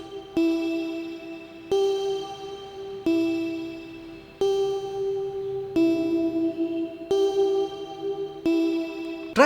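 Repeated sustained tones swell through a reverb effect whose input is trimmed by low-cut and high-cut filters, each new note starting sharply and leaving a smooth washed tail.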